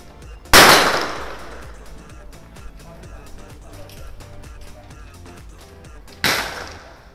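Two sharp, loud gunshots ring out about six seconds apart at the Battle Mouse shooting range in Pattaya, each decaying quickly into a quieter background of low ambient noise and faint clatter.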